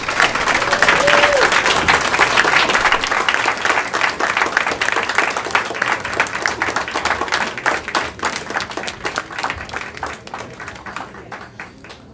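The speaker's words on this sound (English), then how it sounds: "Let's give them a round of applause." An audience at a Central Unified school board meeting applauds for recognized students, producing dense, steady clapping that fades gradually over about twelve seconds, with a brief voice near the start.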